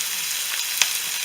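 Chopped onion sizzles steadily in hot oil with mustard seeds and curry leaves for mushroom paniyaram, a bright continuous hiss with a single sharp pop partway through, no talking.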